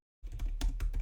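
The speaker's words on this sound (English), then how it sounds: "right here I'm just typing in." Keystrokes on a computer keyboard while a new text file is filled in, a quick irregular run of clicks starting after a brief silence and continuing steadily, close and alone.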